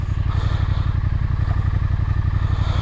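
A Triumph Speed Twin 1200 motorcycle on the move, its engine thrumming in a steady, close, rhythmic pulse with a faint clatter, holding an even loud level throughout with no talk.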